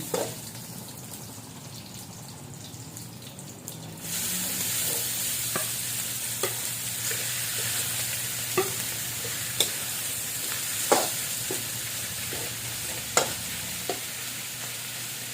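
Garlic, onion and meat stir-fried for canton guisado, a steady sizzle that jumps louder after a few seconds, with repeated sharp scrapes and clinks of the utensil against the pan, close up and without talk.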